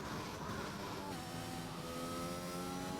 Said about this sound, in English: And a little bit of a rev.